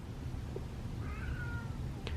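A cat gives a single short meow outdoors by a back door, fairly faint over a low background rumble, with no talk.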